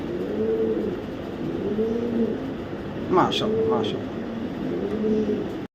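Racer pigeons coo in a repeating series of soft, rolling calls close by, with a brief higher chirp partway through and a steady low background hum.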